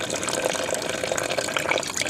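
Hot coolant draining out of a KTM motorcycle during a coolant flush, a steady broadband liquid splashing and trickling sound, continuous and close, with no talking.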